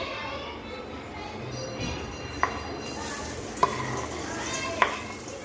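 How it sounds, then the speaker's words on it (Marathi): Finely chopped onion frying in hot oil, a steady close sizzle with a few sharp clinks of a utensil stirring against the pan. "तर हे बघा छान असा कांदा फ्राय होतोय आता"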